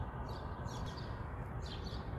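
Birds chirp on a quiet suburban morning in Essex County, New Jersey, a few short high tweets in small bursts over a low steady street hum.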